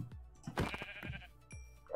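Sheep in the video game Minecraft bleating a few times in quick succession, soft and nearby, with a faint ambient background.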